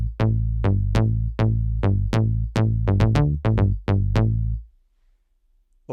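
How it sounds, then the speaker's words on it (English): Punchy FM synth bass from a Yamaha TX81Z rack unit using the famous Lately Bass patch, playing a run of about fourteen plucked, decaying notes in a bouncy rhythm, close and loud, then stopping into near silence. "a very famous patch called Lately Bass."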